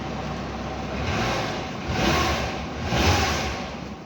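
An old van engine running after a booster-pack jump start, a rough, steady idle with the revs rising and falling twice, close and fairly loud.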